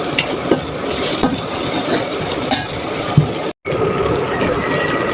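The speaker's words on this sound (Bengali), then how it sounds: "তো আমি আরেকটু কষিয়ে নেব।" Beef liver and lung stir-fried on an infrared cooker, sizzling steadily with repeated spatula scrapes and clinks against the pan, a brief dropout partway through.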